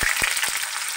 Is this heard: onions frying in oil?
yes